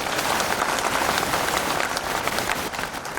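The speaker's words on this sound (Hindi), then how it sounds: "एक बार उनके लिए ताली बजा दो" A large crowd claps loudly and continuously at a ceremony honouring children's talents, the dense applause filling the hall without pause.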